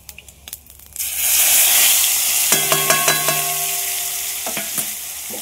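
Mustard and green chilli paste hitting a hot pan, a loud, broad sizzle that jumps in after a second and holds steady, with a few sharp utensil clinks and scraping strokes in the middle stretch.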